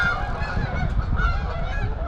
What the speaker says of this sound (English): that's quite a flock of geese there